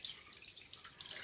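Tap water running onto a soap bar while makeup brushes are being cleaned, a brief, faint splashing trickle with bright spattery detail, close and alone.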